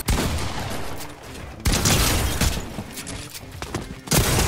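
Gold pump shotgun blasts in the Fortnite video game, several loud booming shots in quick succession amid other gunfire and game noise.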